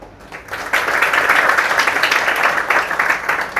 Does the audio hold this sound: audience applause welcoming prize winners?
yes